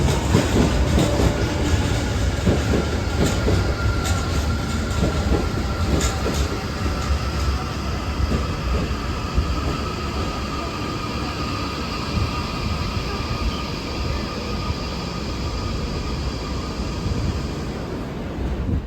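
An Odakyu Romance Car train running, a steady loud rumble of wheels and rail noise with some clatter, continuous and close throughout with no voices.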